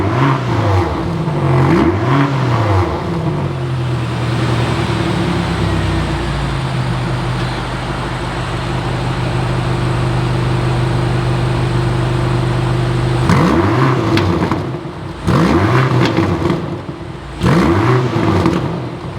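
BMW XM SUV engine revving hard in repeated bursts, then holding a long sustained high-revving drone before more sharp rev blips, loud and close with no talk.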